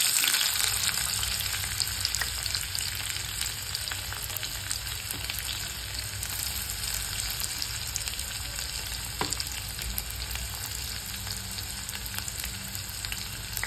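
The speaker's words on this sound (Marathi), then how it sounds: "हा कांदा 2 मिनिटं परतवून घ्यायचा." Chopped onion sautéing in a hot pan with cumin for Maharashtrian chole bhaji, giving a steady, dense, close sizzle and crackle that continues unbroken, with no voices over it.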